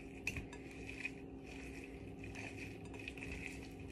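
Ground beef patty mixture with salt, pepper, onion powder and Worcestershire sauce being mixed in a bowl, a soft continuous squelching stir with a few light clinks of utensil against the bowl, quiet and close, with no voices.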